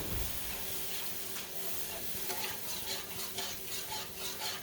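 A spoon scrapes and swirls through sausage gravy in a hot pan as milk is worked in, a soft steady churning over a faint sizzle, close and quiet, with no voices.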